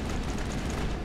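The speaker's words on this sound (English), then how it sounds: "Grenades." Grenades go off in the video game Mass Effect, a dense rumbling blast that fills the whole moment with low booming roar, loud and continuous.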